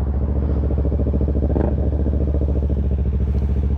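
A yellow mint-green Kawasaki ZH2 motorcycle idles close and loud with a steady, rapid pulsing engine rumble, and a brief rev-like swell partway through.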